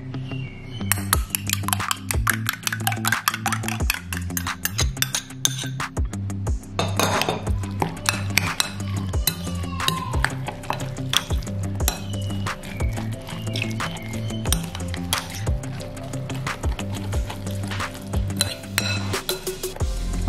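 Corn and spinach fritter batter being mixed in a bowl, a spoon clinking and scraping against the dish in a rapid, steady rhythm, close and clear with no voices.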